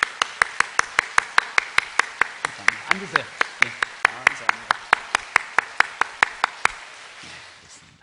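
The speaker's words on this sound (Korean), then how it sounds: "우리 뜨겁게 박수로 환영하겠습니다." A church congregation welcomes newcomers with steady, evenly paced rhythmic clapping, sharp beats repeating about five times a second for several seconds before stopping, as someone speaks briefly under it.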